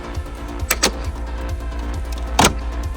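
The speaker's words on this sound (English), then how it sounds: "Should clip into place. There we go. You can hear it happening." Sharp plastic clicks snap close by as a front-mount intake cover clips into place on a BMW M8 Competition, two quick ones followed by a louder single snap, over a low steady hum.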